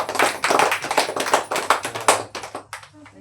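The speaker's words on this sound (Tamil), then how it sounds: "கைத்தட்டிடுங்க எல்லாத்துக்கும்." A small gathering in a home claps hands in a rhythmic series of sharp, close claps, fairly loud and fading toward the end, with no talking over them.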